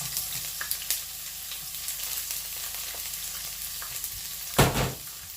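Coarsely chopped onion sizzles and sautés in a hot wok, a steady crackling hiss with light stirring taps and a louder burst of sizzle near the end.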